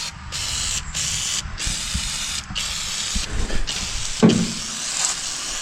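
Lubricant sprays onto a truck part in a series of steady, close hissing bursts, each separated by a brief pause.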